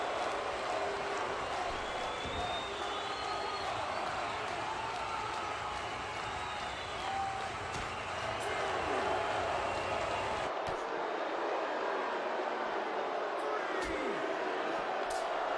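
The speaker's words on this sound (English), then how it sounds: "Crowd is loud tonight." A loud wrestling arena crowd roars and cheers steadily through a brawl, dense sustained noise with shouts and whistles, easing off sharply near the end.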